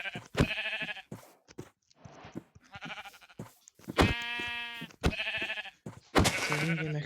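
Sheep bleat loudly and close by, giving several long wavering calls in a row with short pauses between them.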